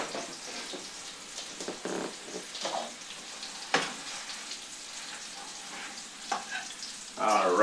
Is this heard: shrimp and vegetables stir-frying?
yes